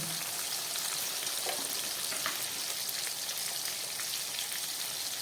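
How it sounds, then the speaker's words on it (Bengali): Prawns frying in hot oil with salt and turmeric, a steady dense sizzle and crackle throughout with faint spatters and stirring, close and continuous with no talk. "এই গরম তেলের মধ্যে আমি চিংড়ি মাছগুলোকে ভেজে নেব।"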